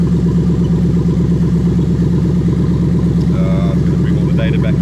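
A 2004-2008 Toyota Crown Majesta with its 3UZ-FE VVT-i V8 idles steadily at about 1000 rpm, a loud, even low throb with faint higher ticking layered above.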